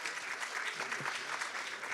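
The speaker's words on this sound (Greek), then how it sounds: "Χειροκροτήστε τον εαυτό σας." A lecture-hall audience of film school students claps for themselves, a dense, even burst of applause filling the room for a couple of seconds.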